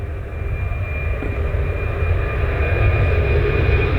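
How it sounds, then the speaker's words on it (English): A Ryanair airliner taking off from Manchester Airport under a slightly overcast sky, its engines a steady, loud broadband roar with low rumble that holds throughout, with no voices over it. "good old friend Ryanair going off to Venice"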